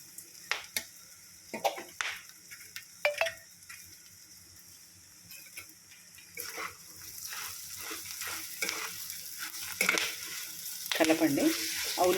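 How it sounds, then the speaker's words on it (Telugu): Onions fry and sizzle in a pan while a utensil stirs them, giving irregular scraping clatters and soft crackling at close range, with no talking. "ఆ ఉల్లిపాయలు కూడా కొంచెం వేగిపోయే వరకు కలపండి."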